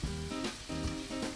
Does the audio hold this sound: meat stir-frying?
yes